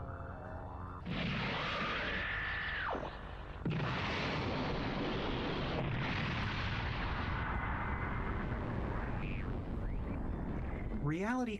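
Matter disentanglement cannon firing in the space game Death in Space, a loud sustained roaring blast with a rising whine, cutting out and resuming in long bursts, then ending in a wobbling warble.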